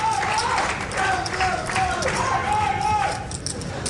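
Poker fans at a World Series of Poker final table chant a rhythmic "oi, oi, oi" cheer, a crowd of voices rising and falling over arena hubbub, with announcers talking over it.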